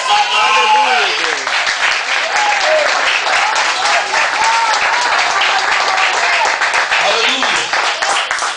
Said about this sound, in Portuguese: Só quem acredita, aplaude o Senhor nessa noite.